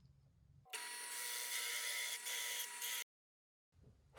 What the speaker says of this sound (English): I've got a 2-inch drill bit in my press. So we're going to drill in one of these areas right here